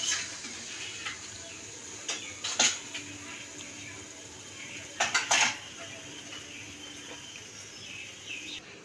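A metal cooking pot of puei (Malabar spinach) chochchori being lifted off a stove: scattered sharp clinks and two clusters of clattering metal knocks over quiet kitchen background.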